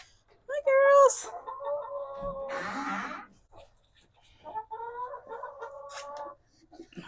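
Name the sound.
chickens clucking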